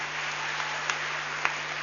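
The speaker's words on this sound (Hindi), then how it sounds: "तालियों की आवाज कम होती जा रही है" Audience applause fades at a children's NGO annual dance festival in Mumbai, a soft steady wash of clapping with a couple of sharper claps standing out, dying away steadily.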